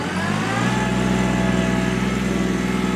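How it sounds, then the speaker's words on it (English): A 2001 Kubota B7500 diesel compact tractor with its 60-inch belly mower deck engaged via PTO, running steadily with a close, even engine drone and a whirring blade hum settling in. "I'll go ahead and stick the mower deck in. Mower deck's nice and quiet, rear PTO."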